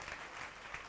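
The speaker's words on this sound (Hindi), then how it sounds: "तालियां बजाकर अनुमोदना कर दें।" Brief burst of crowd clapping at a religious discourse gathering, a dense, even patter of many hands held at moderate level for about a second.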